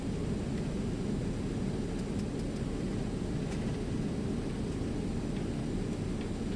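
Airliner landing in the FS2020 flight simulator on arrival at Toronto, with reverse thrust engaged: a steady, loud, broad roar and rumble that holds evenly throughout, with no voices.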